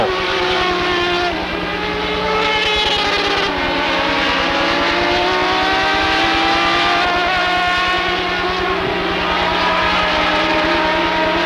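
Stock race cars roar around Rockford Speedway on the final lap, a loud continuous engine drone with layered rising and falling whines as cars pass, steady throughout with no talk.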